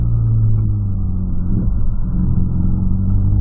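A Volkswagen Polo car engine revving as it accelerates, a loud, steady low-pitched drone heard close up with no voices.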